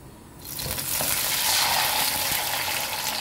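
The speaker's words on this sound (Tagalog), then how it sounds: "lagay na natin ang ating malaking isda" A large fish drops into hot oil in a pan and breaks into a loud, steady sizzle that carries on unbroken to the end, with faint stirring underneath.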